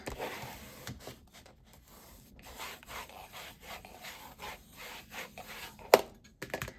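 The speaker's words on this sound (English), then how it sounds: "Hurry up and burnish that Art Glitter Glue." Art Glitter Glue on a mini album cover is burnished by hand, giving quiet, repeated scratchy rubbing strokes in an irregular back-and-forth rhythm, close up, with one sharp click near the end.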